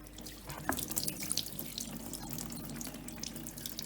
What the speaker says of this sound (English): So you can pour some water in the middle there and just make sure that they're running freely.